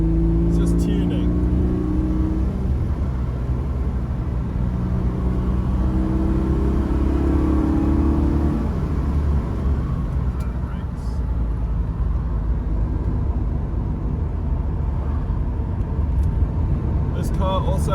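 An Alfa Romeo GTV6 engine bogs under sudden wide-open throttle, a loud continuous low rumble of driving with a wavering note early on, while a person talks over it throughout.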